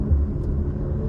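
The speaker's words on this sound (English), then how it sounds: "But I get the little burbles and all of that stuff." Stock exhaust of an Audi RS5 with a twin-turbo V6, giving a steady low rumble with soft burbling pulses, close and fairly loud, with no talk over it.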